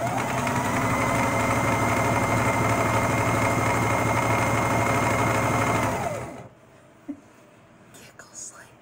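A home sewing machine runs steadily and close, a continuous whirring drone for about six seconds before it stops, leaving near silence with a few small handling sounds.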